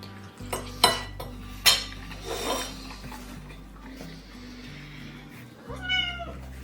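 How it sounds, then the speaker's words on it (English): Pet cat in a kitchen meowing: a drawn-out meow near the end, with sharp clinks of dishes and cutlery and a steady low hum earlier. "There's a kitty."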